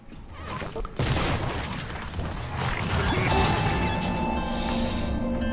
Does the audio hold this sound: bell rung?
no